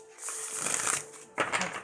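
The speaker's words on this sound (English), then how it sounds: "So I have shuffled these and concentrated on your question, but I will shuffle a couple of more times." A deck of oracle cards is shuffled by hand during a Lenormand and oracle reading, two quick riffling bursts of papery rustle, close and fairly soft.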